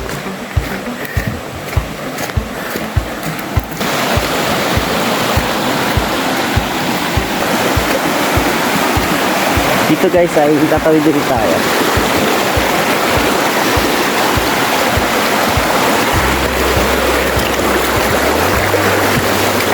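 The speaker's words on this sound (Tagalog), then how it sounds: "naririnig ko na yung nagaslas ng tubig sa falls" Rushing water roars steadily near Karugo Falls along a river swollen by heavy rain, a loud continuous wash that fills the whole stretch, with a brief voice speaking over it near the start.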